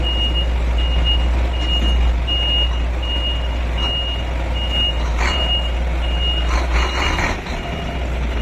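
A ten-wheel boom truck moving with a loud, continuous diesel rumble and a regular series of high reversing beeps repeating on top.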